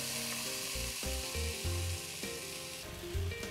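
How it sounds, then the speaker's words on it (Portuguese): Apple pieces fry in a pan that was already used to fry cabbage, caramelizing with a steady, even sizzle. Background music plays over the sizzle, and no one speaks. "Eu estou fritando a maçã para que ela fique caramelizada e solte os sabores"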